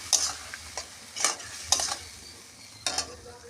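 Potatoes stir-fried in oil in a pan give a soft, steady sizzle, cut by several sharp scraping stirs of a spatula at uneven intervals, close and fairly quiet.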